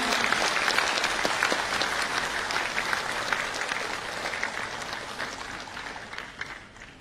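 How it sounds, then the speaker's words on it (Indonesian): An audience applauds for a plaque presentation at a business event, a dense, sustained clapping that stays loud and full before tapering slightly near the end. "Berikan aplaus yang meriah."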